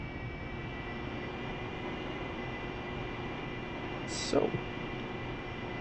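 AV-8B Harrier taxiing in the DCS flight simulator, a steady jet engine whine and rumble running throughout, with a brief louder sweep near the end, while someone speaks briefly over it.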